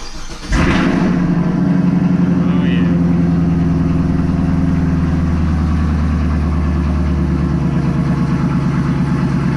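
A 2021 Chevrolet Camaro SS 1LE fires up from a warm start with a sharp burst, then settles into a steady, deep, rumbling idle recorded close by, holding a constant throb.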